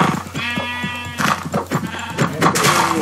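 Sheep in a video game bleat repeatedly and loudly, several wavering cries in quick succession that sound close by with no talking over them.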